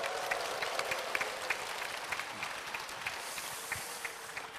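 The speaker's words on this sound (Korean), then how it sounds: "다 같이 박수와 함성으로 출발을 해볼까요?" A seated audience of parents and students at a school talk event in Sokcho claps steadily, with scattered cheers rising above the dense applause throughout.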